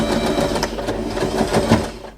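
A sewing machine stitches fabric for a handmade butterfly bow hair clip, its close, steady mechanical whir carrying a fast pulsing rhythm for about two seconds, with no voices over it.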